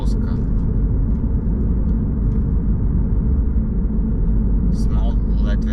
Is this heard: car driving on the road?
yes